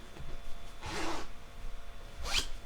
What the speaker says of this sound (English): so it's got the zipper in